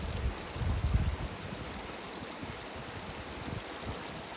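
A small brook flowing beside a river at a rural stone house in Portugal, a steady low trickle and wash running throughout at close range, with a brief louder burst of water noise near the start.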